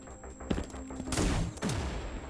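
A power-shot rocket jump in the Reclamation video game bursts out as a sharp blast followed by a roaring, crackling whoosh and a second hit, loud and close.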